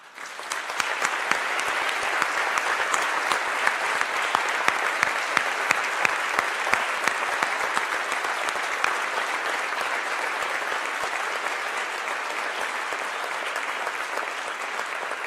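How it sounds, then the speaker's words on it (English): Sustained applause from an audience honoring faculty emeriti at a university awards ceremony, steady and full for about fifteen seconds with dense crisp claps and no talking over it. "so that we can recognize all of you with a well-deserved round of applause"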